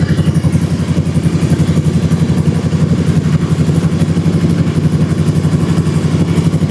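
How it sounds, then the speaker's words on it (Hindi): A motorcycle engine idles steadily nearby, a loud, even low rumble with a rapid pulsing beat throughout and no other sounds. "तो बाइक को भी हमने थोड़ी देर आइडल पर रख लिया।"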